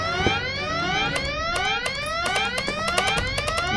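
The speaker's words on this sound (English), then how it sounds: "Why did that alarm go off again?" Alarm blaring in the Goodbye Deponia video game, a rapid repeating rising electronic whoop with sharp clicks over it, loud and close.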